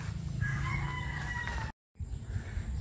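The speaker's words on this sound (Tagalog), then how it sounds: "pupuntahan natin yung isa pang RIR na isang pinakamatanda na nating manok, si Hawk, si Baby Hawk." An old Rhode Island Red rooster crows once, a long drawn-out call close by that carries over steady background noise, with no talk, then a brief drop to silence and the ambient noise resumes.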